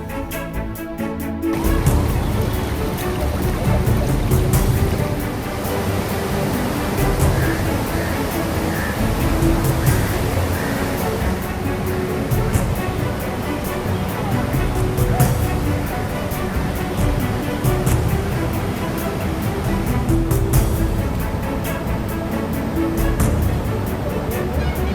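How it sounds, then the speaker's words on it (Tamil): Floodwater mixed with sewage flowing ankle-deep over a submerged causeway, a continuous broad rushing wash heard steadily throughout, with traffic and other outdoor noise mixed in. "தரைப்பாலத்தில் கணுக்கால் அளவு சாக்கடையுடன் வெள்ளம் செல்லும் நிலையில்"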